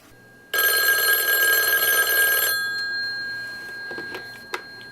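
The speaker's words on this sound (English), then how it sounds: "somebody's calling on the phone" A Western Electric wooden wall telephone's bell rings in one loud, continuous metallic burst of about two seconds, then fades into room tone with a few soft knocks.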